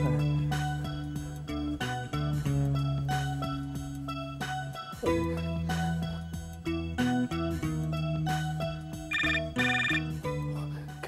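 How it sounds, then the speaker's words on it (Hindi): An electronic telephone ringtone plays a repeating melodic jingle, loud and close, looping steadily with no talking over it. "किसका फोन है भाई?"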